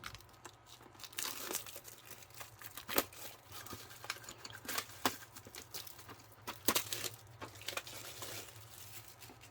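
Plastic wrap on a PrismaColor Premier 72 colored pencil set being poked and torn open with a pencil, a run of close crinkling and sharp tearing crackles in uneven bursts over a low hum.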